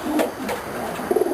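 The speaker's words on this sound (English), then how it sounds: "When do you start training your pigeons, Leo" Racing pigeons coo softly in a loft, a couple of low throaty coos close by with a soft rustle between them.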